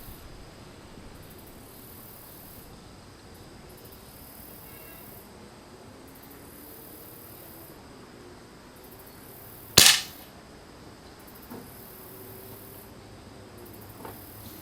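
A single sharp shot from a Crosman M4 .177 pump air rifle charged with ten pumps, fired outdoors against a quiet background of faint insect chirping, with a small later click.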